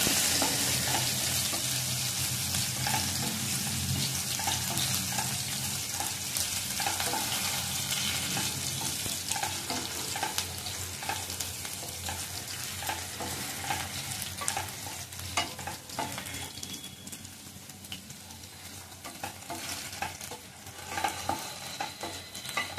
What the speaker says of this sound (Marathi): चण्याची डाळ टाकली त्याच्यामुळे थोडा हिंग टाकायला.